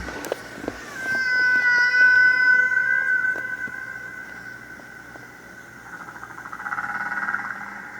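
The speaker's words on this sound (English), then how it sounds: "When listeners heard that groundbreaking recording of whale song" Classic recording of humpback-style whale song, long sustained tonal moans and rising whistles sweeping and bending, fairly loud and alone with no talk, swelling then fading and returning as a lower drone.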